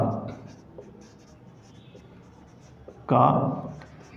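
A physics equation is written out during a class lesson, with light scratchy strokes and a louder, firmer scrawl near the end. Soft voice sounds are present faintly in the background.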